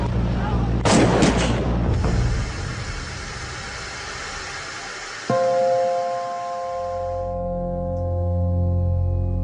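Gunfire at the archival scene of a mass shooting that killed Congressman Ryan and cameraman Bob Brown: a burst of sharp, loud, closely spaced shots early on, followed by rumbling noise and a steady engine-like hum.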